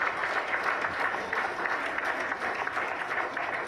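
Odisha BJP legislators applaud by clapping at their party meeting, a dense, continuous roar of many hands, loud and sustained throughout without a break.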